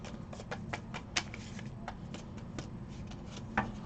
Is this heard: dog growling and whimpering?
no